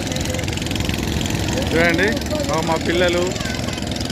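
Motor boat engines run on the river at Omkareshwar, a steady low drone filling the background throughout while people talk over it in the foreground.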